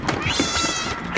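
A cat meows in the video game Stray, a brief close meow under shouted, excited talk over a dense game soundtrack.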